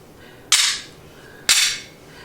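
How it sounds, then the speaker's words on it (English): Two sharp metallic clacks about a second apart as the slides of an H&K VP9 and an SW99 pistol snap closed, each loud, close and isolated, with no talking. "So, this H&K VP9 is basically the same exact gun. We're going to just close them up."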